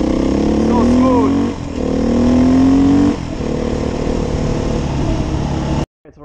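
A 2021 Beta 430 RR-S motorcycle engine runs smoothly and loudly close by, with steady revs rising and settling in waves before cutting off abruptly.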